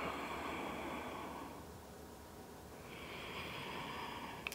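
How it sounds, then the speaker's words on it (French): Slow breathing through the nostrils during morning yoga stretching, a soft airy hiss that fades at mid-point and returns, close and quiet with no talk. "prenez ici 5 respirations conscientes par les narines"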